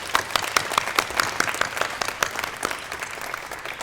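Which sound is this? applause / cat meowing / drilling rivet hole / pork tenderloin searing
applause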